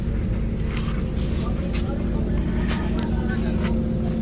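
Hino LK8 bus with suspension heard from inside the cabin: a steady, loud low engine drone and road rumble runs throughout, with faint chatter from passengers in the background.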